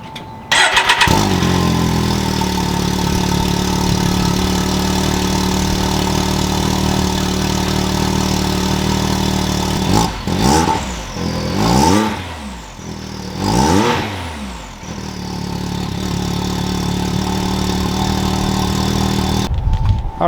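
A 2020 Can-Am X3 turbo side-by-side with a gutted catalytic converter cranks and fires, then idles loudly and steadily for about twenty seconds, with several sharp revs around the middle before settling back to a rumbling idle.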